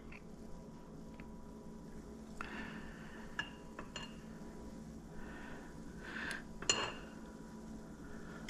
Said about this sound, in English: Let's spoon some on here.